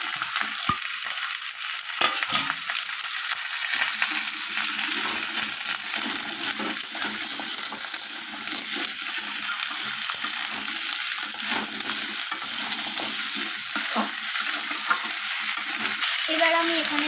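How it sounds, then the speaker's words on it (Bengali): Potatoes fry in a hot pan for a capsicum dish, a dense, loud, continuous sizzle with occasional scraping as they are turned and stirred; no voices. "তো আলুগুলোকে আমি নাড়াচাড়া করে এইভাবে ভাজা করে নিচ্ছি"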